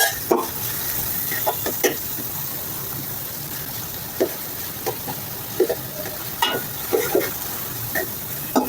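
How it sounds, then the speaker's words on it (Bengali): Chopped onions fry in a pan under a continuous low sizzle, punctuated by intermittent scraping clacks of a spatula stirring, close and fairly loud with no talking. "পেঁয়াজটা একটু সময় নিয়ে ভাজতে হবে।"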